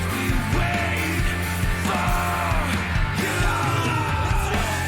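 Loud, distorted rock music, with a dense band mix and raw shouted, screaming vocals running throughout.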